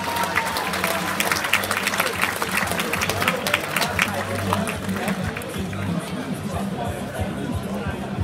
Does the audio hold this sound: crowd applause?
yes